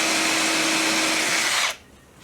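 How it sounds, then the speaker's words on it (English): A power drill whirs steadily as a countersink bit cuts into wood, a loud, continuous motor whine that stops abruptly near the end, leaving a quiet tail. "might just show you as an example how this countersink bit works"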